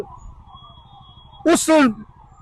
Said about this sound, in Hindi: एक साथ इन एम्बुलेंस की जो आपने आवाज सुनी है वो आवाज